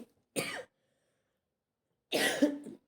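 Two separate coughs, close to the microphone, with a quiet pause of about a second and a half between them; the second is longer and harsher.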